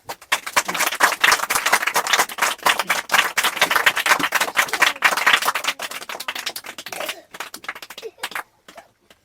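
Crowd of people clapping for an eight-year-old boy, a dense, fast patter of claps that runs steadily for several seconds, then thins into a few scattered claps and fades out.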